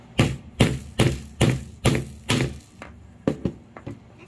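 A big hammer strikes a DIY wooden monster truck build in a run of about ten sharp, loud wooden thuds, evenly paced at first and then quicker and lighter toward the end.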